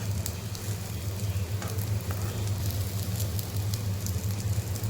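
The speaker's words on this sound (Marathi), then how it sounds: "आपल्या आळूवड्या दोन्ही बाजूनी व्यवस्थित फ्राय झालेल्या आहेत." Alu vadi, sliced taro leaf rolls, shallow-frying in a pan with steady close sizzling and crackling oil throughout, no voices.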